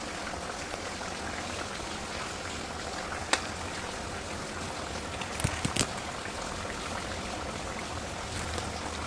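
A Kerala-style fish curry simmering in a covered pot, a dense continuous bubbling hiss at steady level with a few brief clicks, close by and alone without talk.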